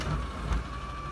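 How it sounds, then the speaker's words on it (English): Garbage truck reversing beeps sound outside, steady and moderately loud throughout a brief stretch, with truck engine rumble underneath. "I'm sorry, that's the garbage truck."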